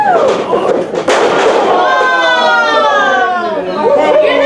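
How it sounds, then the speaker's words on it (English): A pro wrestling crowd in Manteca, California lets out a loud, sustained chorus of oohs and aahs, the voices swelling together and holding for several seconds after a sharp thud early on. "Oohs and ahs from the crowd here in Manteca, California"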